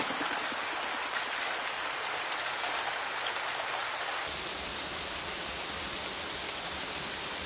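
Heavy rain pours steadily, a dense hiss of drops that shifts in texture partway through but never lets up.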